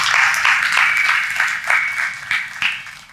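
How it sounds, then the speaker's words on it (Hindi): A church congregation claps in welcome for a couple, a few seconds of brisk, fairly loud applause that swells and fades in uneven bursts, with faint voices underneath. "कोई तालियों के साथ उनका स्वागत करें।"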